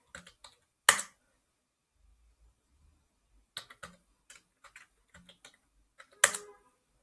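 Keys tapped on a computer keyboard while a password is entered at an Ubuntu Linux terminal: a short cluster of close clicks, a gap, then a longer run of quick keystrokes ending in one harder press.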